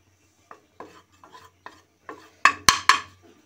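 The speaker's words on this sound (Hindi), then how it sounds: "इसमें डाल रही हूँ मैं 3 टेबलस्पून बेसन और इसको अच्छे से भून लेंगे बेसन को" Spoon stirring three tablespoons of gram flour (besan) roasting in a hot pan for masala bhindi: a series of soft scraping strokes, then three louder, sharper clinks against the pan near the end.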